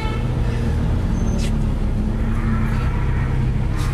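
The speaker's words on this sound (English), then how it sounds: "that car behind us could not keep up with this thing on the straight" Ford Capri race car engine roaring steadily on the Donington Park circuit, a loud continuous in-car drone with low harmonics, tyre and road noise filling the whole stretch.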